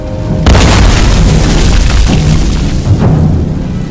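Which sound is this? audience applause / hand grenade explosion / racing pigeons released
hand grenade explosion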